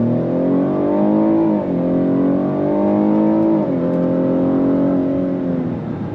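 A 2023 Cadillac XT6 Sport pulls away from a dead stop in regular automatic mode, its engine droning loud and steady from inside the cabin, the pitch climbing and dropping back at each of several upshifts.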